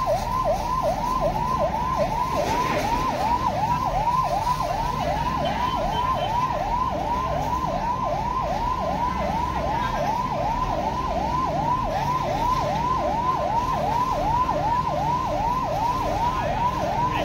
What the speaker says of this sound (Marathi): अग्निशमन दलाची ही गाडी त्वरित आली व आग विझवण्यात आली